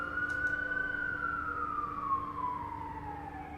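An ambulance siren wails past with a long, gliding tone that slowly falls in pitch, steady and fairly loud over low traffic rumble, with no one talking.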